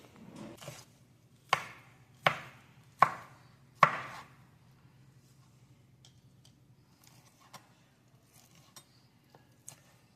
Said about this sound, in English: break out the cutting board and start chopping